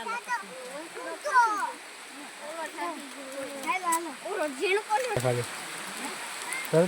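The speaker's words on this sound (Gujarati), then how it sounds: "વરસાદ ચાલુ છે અત્યારે." Steady rain hisses in the background at a hill station while children and adults chatter nearby.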